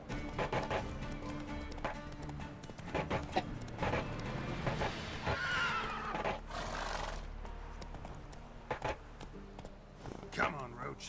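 Roach, the horse in The Witcher 3: Wild Hunt, whinnies loudly and gallops with pounding hooves and panting breaths, partly under a voice.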